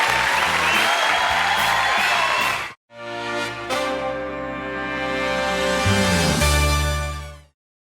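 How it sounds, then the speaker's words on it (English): Studio audience applause and cheering on a late-night talk show with Arnold Schwarzenegger as guest; loud clapping for almost three seconds cuts abruptly into a bright, sustained musical theme that runs to the end. "I'm humbled by that applause."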